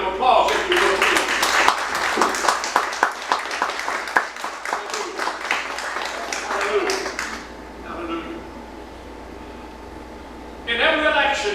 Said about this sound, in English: Give them a round of applause if you will, please.